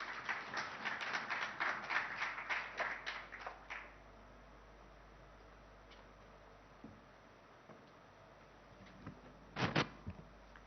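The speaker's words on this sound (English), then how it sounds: "Can we have a round of applause?" Sparse audience applause at an investor summit in a hotel hall, a thin patter of claps from a modest crowd that thins out within a few seconds, leaving a quiet room with a couple of isolated knocks later.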